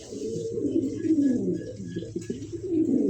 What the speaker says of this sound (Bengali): এত সুন্দর কোয়ালিটি জবজবা করা একটা কবুতর ভাই